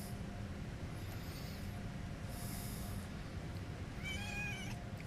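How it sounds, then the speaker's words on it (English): A cat meows a few times, faint and somewhat distant, over the steady low rumble of an Acela train running from Boston to Providence in Train Sim World 5. "if you hear that meowing, that's my cat"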